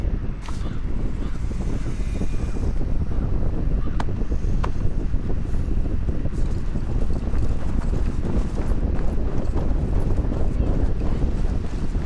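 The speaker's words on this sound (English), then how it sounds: "Basim, Eivor, to horse!" Horse hooves pound in a fast, steady gallop beneath a rushing wind, with a few sharp clanks cutting through the loud, continuous rumble, in Assassin's Creed Valhalla game audio.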